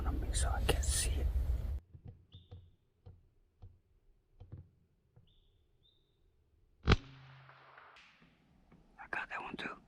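A CZ 457 .22 LR rifle fires once at a squirrel during a public-land hunt in Iowa, a single sharp crack in open woods, preceded by quiet ticking and faint movement, with low whispered talk nearby.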